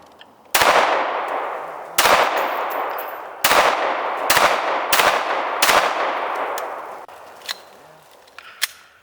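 Five loud 9mm pistol shots fired at a rubber strap target, spaced about a second apart, each a sharp crack with a lingering echo, followed by a few fainter clanks.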